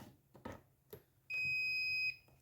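A few soft clicks and taps, then a single sustained electronic beep from a kitchen appliance while making mushroom soup, clear and close, lasting under a second before cutting off.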